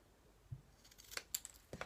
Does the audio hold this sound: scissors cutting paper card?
yes